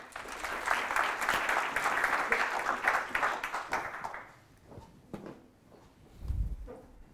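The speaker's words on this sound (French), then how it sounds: "je pense qu'on peut l'applaudir encore une fois" Conference audience applauding for a few seconds, a warm burst of clapping that fades out, followed by scattered stray claps and a soft low thump.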